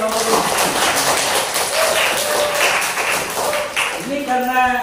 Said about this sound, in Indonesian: Tepuk tangan dong untuk kelompok ini.